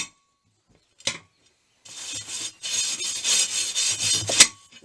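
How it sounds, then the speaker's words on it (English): Rust is scrubbed off the bead of a 1965 VW Beetle wheel rim, a brief scrape followed by a few seconds of steady, gritty rubbing close up, ending in a sharp final stroke. "I'm just cleaning up the bead, the rim, making sure it's smooth and free of"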